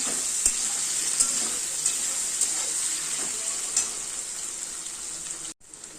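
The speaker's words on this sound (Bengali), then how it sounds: "নেড়ে তো ভালো করে ভাজা ভাজা করতে হবে" Potatoes sizzling and frying in a pan with turmeric, stirred with a spatula that scrapes at a steady, irregular rhythm; close, continuous crackle with no talking, cutting off abruptly near the end.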